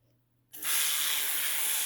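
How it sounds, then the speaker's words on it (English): A quiet moment, then a sudden burst of bright, steady hissing spray from a bottle that continues without a break until the end. "I like to use a spray bottle to get my paper towel wet"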